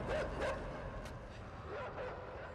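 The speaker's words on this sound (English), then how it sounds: "Oh god, the dogs are back." Dogs bark and yip in the video game Inside, a few short barks near the start and again toward the end over a dark, rumbling ambience, with a voice faintly in the background.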